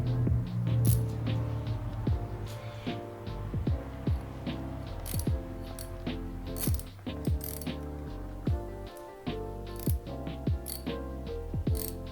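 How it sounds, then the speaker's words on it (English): A screw being reinserted and tightened on the windshield mount of a Royal Enfield Hunter 350: a run of close, quick metallic ratchet clicks with brief pauses, steady throughout and with no talk. "Now I'm reinserting the screw at the bottom of the little spiral nut, spiral washer thing, just to hold it all in place."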